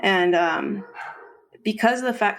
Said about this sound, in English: the dogs, you hear the dogs